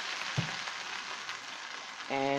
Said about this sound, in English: now firstly we preheat our oil, kita punya minyak, dan kita saute our grounded ingredients